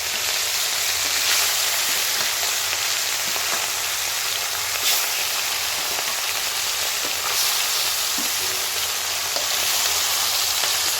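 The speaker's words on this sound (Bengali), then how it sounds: "এবার আমি মাছগুলো ওই তেলের মধ্যে দিয়ে দেবো। তেল দেখুন ঘুরে গেছে।" Marinated rohu fish pieces fry in hot oil with a steady, dense sizzle and crackle that holds evenly throughout, close and fairly loud, with no voices.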